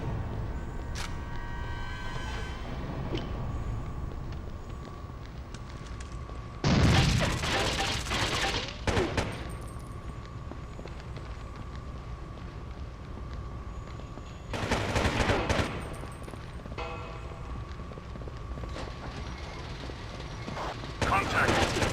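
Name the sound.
gunfire in video game Rainbow Six 3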